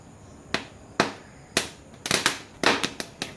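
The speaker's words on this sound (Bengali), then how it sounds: "এই ভুট্টা পুড়ছে আর ধুমধাম করে বম ফাটছে ভুট্টার মধ্যেই" Corn cobs roasting over a gas flame pop sharply like firecrackers, about ten loud crisp cracks at irregular intervals, some in quick clusters, over a quiet background.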